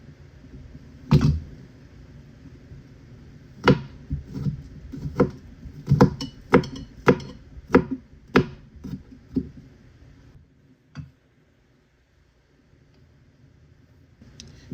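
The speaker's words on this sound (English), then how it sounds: "I'm going to finely chop my garlic." A knife chops garlic finely on a cutting board, a series of sharp, close taps in an uneven rhythm that quickens in the middle and then trails off into quiet.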